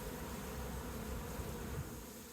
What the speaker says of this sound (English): Try to look under the bees.